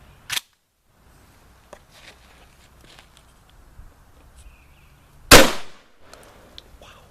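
A Remington 1100 shotgun firing PDX1 buckshot gives one loud, sharp blast with a brief decaying tail, preceded by a smaller click-like report and followed by faint handling noises.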